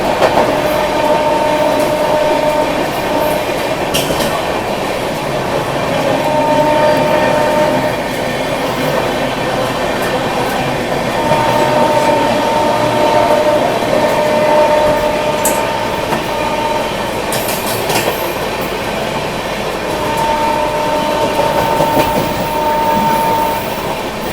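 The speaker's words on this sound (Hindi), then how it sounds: "मथुरा स्किप के साथ साथ गीता जयंती एक्सप्रेस को भी ओवरटेक कर दिया अपनी राजधानी एक्सप्रेस ने यहाँ पर" A Rajdhani Express passenger train overtaking the Gita Jayanti Express near Mathura, heard from inside a coach as a loud continuous rumble with rail clatter, brief sharp squeals and whooshes, and no talk.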